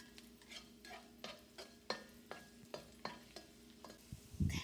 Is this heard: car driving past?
no